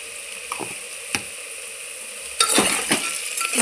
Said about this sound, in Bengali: আবারও ভালোভাবে নেড়ে চেড়ে নিচ্ছি।